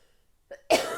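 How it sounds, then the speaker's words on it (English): A single sharp cough bursts out near the end, close and loud, preceded by a brief throat sound, from a person suffering a cough and cold. "I'm really sorry for my cough and cold"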